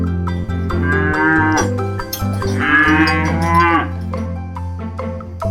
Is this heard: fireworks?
no